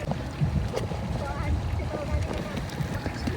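A sailboat's engine drones steadily on the water off Boracay, low and moderately loud, with voices talking intermittently over it.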